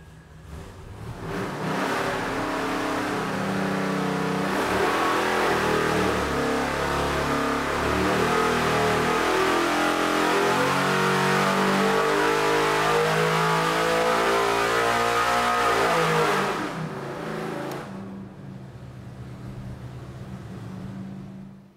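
A 572 cubic inch big block Chevy V8 on an engine dyno runs a full-power pull up to 7,000 RPM, a loud, steady roaring climb lasting about fifteen seconds before cutting back to a lower idle rumble.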